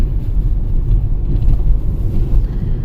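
A car drives at speed along an icy, slippery village road through frozen countryside, giving a continuous low engine and tyre rumble, close and steady throughout, with no talking.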